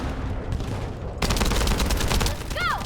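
Sustained automatic gunfire at a boss in the game The First Descendant, a quieter stretch giving way to a loud, dense barrage of rapid shots, with a short whooshing sweep near the end.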